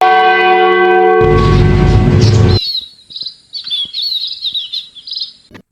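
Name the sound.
church bell ringing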